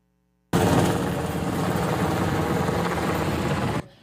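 Firefighting helicopter flying during an island wildfire drill off Guishan Island, giving a loud, steady broadband rotor and engine roar that starts abruptly and holds for about three seconds with no talk.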